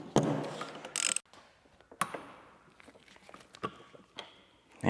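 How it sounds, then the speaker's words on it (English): Ratchet working on the turbine wheel nut of a Duramax diesel turbo during a rebuild, giving a few short clicking bursts with pauses between them, close and fairly quiet. "So you have to back it up on the actual turbine wheel, so you get a ratchet on there."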